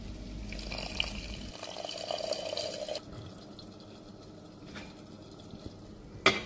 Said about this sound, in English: Mix well and add a little bit of water.